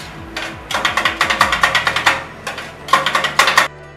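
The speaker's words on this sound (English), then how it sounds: "This is the sound of kottu." Metal blades rapidly chopping kottu roti with chicken on a griddle in Sri Lanka, loud close clacking in quick rhythmic bursts with a brief pause between runs, over low kitchen hum.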